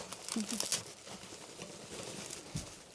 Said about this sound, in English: Unwrap all our packaging for travel.